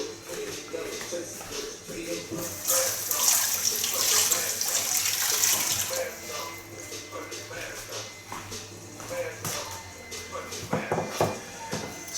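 Tap water running over a rutabaga being washed at a sink, a rushing splash that swells for a few seconds and then eases, with a person talking over it and some handling noise.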